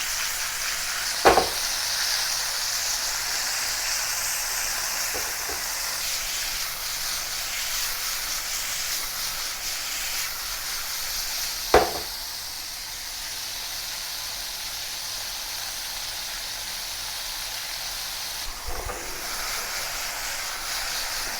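Beef and mushrooms stir-frying in a wok make a continuous low hiss of frying oil, broken by a few sharp clacks of utensils against the pan at wide intervals, with no talk.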